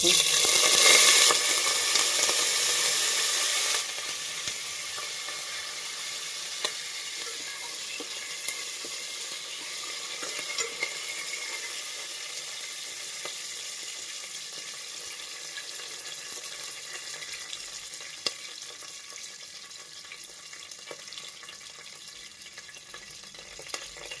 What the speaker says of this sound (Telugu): ఒక four five table spoons oil వేసుకొని ఇందులోకి జీలకర్ర ఆవాలు నెక్స్ట్ కరేపాకు